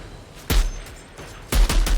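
Gunfire in the video game Outriders: two sharp, loud bursts of shots about a second apart, the second a rapid cluster of several reports, with quieter background ambience between.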